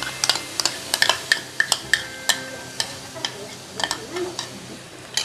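Coconut chutney being stirred into a sizzling tempering of mustard seeds and curry leaves in a pan, with a steady fry hiss under repeated close metallic clinks of a spoon against the pan.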